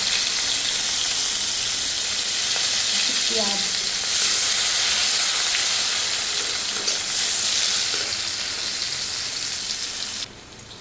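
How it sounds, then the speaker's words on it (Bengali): Sliced onions frying in hot mustard oil for a prawn and taro curry: a loud, continuous sizzle and crackle fills the whole clip, with occasional stirring scrapes and a faint brief voice, dropping slightly at the very end. "এখানে আমার সরিষার তেল আছে, কী করবো এখন, গরম হয়ে গেছে। আমি পেঁয়াজটাও তার সঙ্গে দিয়ে দিচ্ছি।"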